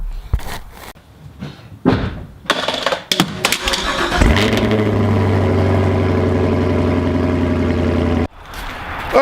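A Chevrolet Camaro is started after door and cabin clunks, its engine cranking and catching at mid-clip, then settling into a loud, steady idle heard close before it cuts off.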